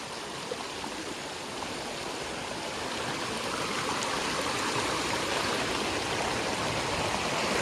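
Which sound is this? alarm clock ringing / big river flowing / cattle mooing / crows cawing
big river flowing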